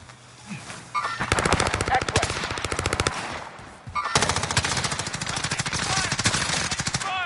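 Sustained rapid automatic gunfire from a video game, loud and close, comes in two long bursts separated by a short pause, with a voice faintly present at the start.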